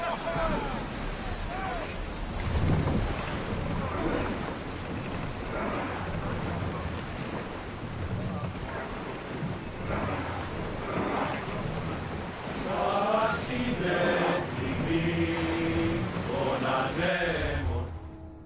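A sailing ship setting off at sea in Assassin's Creed Odyssey, with steady wind, rushing waves and creaking hull noise throughout, while voices speak over it.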